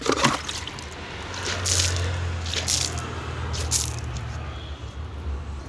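Water is flung by hand over a freshly swept front yard, making repeated splashing spatters and wet patters over a low steady background, close by and with no voices.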